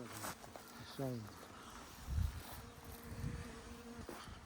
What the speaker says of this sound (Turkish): Arı üzerinde çalışıyor.